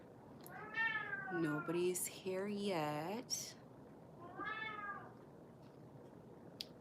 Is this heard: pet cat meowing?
yes